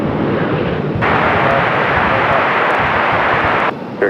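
A medevac aircraft, Yellowstone 9, rolls for takeoff on runway 23 left at Raleigh-Durham International, a steady loud broadband engine roar that swells abruptly and holds before easing off at the end.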